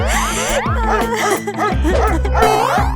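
Small puppy yipping and barking in a cartoon-style scene, high excited yaps repeated throughout over a busy background of music and other sounds.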